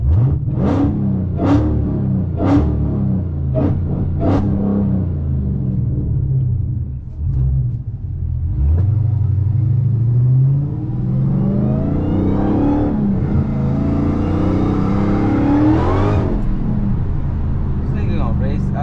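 A Dodge Hellcat engine rumbles close by, then revs up and climbs in pitch through several rising surges, with people talking over it.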